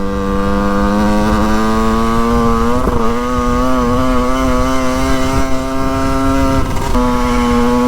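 A Yamaha DT 50cc two-stroke motorcycle rides along, its small engine buzzing loud and close at a steady pitch, with a brief dip and pick-up in revs around gear changes.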